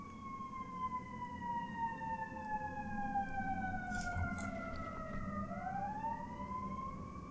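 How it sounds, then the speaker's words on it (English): An emergency siren passes by outside, a wailing tone that slides down in pitch as the vehicle goes past, heard faintly over low engine and room noise. "here comes a siren outside"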